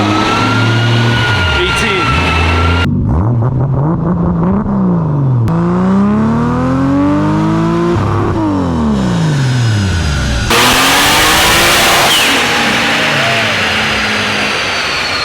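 A turbocharged R34 Skyline engine revs hard on a dyno through repeated climbing and falling sweeps, loud and close, with voices audible beneath it.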